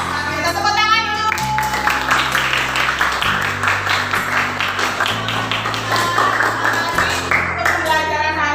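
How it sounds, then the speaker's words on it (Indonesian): A junior high class claps hands together at the end of a lesson, loud, close clapping in rhythmic bursts with children's voices and chatter underneath, then talk resumes. "Kita tepuk tangan dulu"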